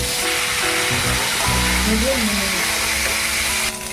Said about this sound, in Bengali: পটলটাকে ভেজে নিয়েছি, এখন দিয়ে দিলাম আলুটা দিয়ে একসঙ্গে ভেজে নেব।